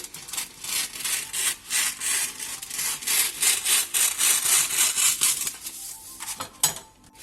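A knife draws repeatedly across a sheet of set chocolate to cut squares into triangles for cake decorations, producing rhythmic scraping strokes, close and fairly loud, with no talk.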